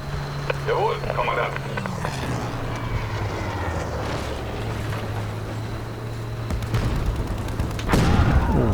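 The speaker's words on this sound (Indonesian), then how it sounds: "Banyak ledakan-ledakan seperti ini" Booming explosions and rumbling blasts in a dense, chaotic Battlefield V battle soundscape, with a sharp burst near the end and indistinct voices mixed in.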